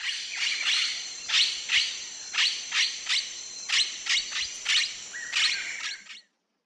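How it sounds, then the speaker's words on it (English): Repeated harsh, high-pitched calls of a blue-headed parrot, about a dozen short bursts in a steady, fairly regular rhythm, loud and close and heard alone before cutting to silence. "Blue-headed Parrot."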